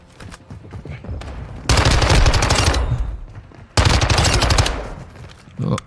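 Automatic gunfire in Call of Duty Modern Warfare 2 erupts in two loud, sustained bursts of rapid shots, with quieter scattered fire and game noise between them.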